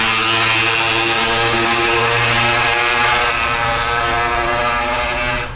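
A loud, buzzing 50cc motorcycle passes close by on a mountain-bike trail, its high revving two-stroke-style drone with strong harmonics dominating and holding steady, then easing slightly at the end.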